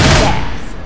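Rapid gunfire in Left 4 Dead 2, a short loud burst of shots up close, fading quickly into its echo.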